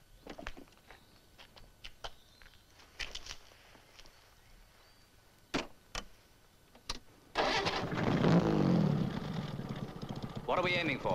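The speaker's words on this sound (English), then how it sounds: "My engine's stalled and I can't get it started again." A stalled convertible car's engine is cranked after a few scattered clicks and knocks, then catches and runs with a loud, rough mid-pitched roar, with voices heard in the background.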